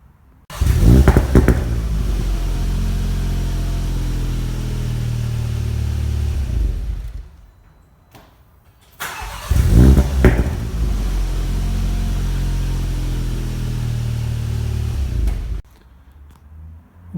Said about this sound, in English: on warm startup it will do 1, 2 or even 3 crackles